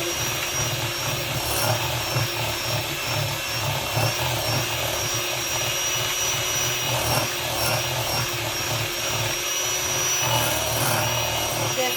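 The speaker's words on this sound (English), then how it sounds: "So I'm just going to mix it." An electric mixer whirs steadily through cheesecake batter, giving a constant loud motorised drone with a high whine and slight wobbles as the beaters move through the mix.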